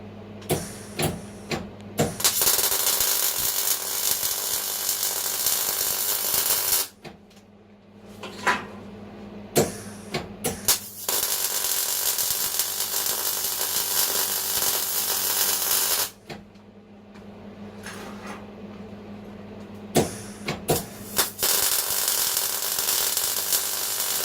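A welder runs beads on a corner-tacked steel joint in a beginner welding project, giving loud, sustained crackling buzz in three long runs separated by short quiet pauses and a few clanks.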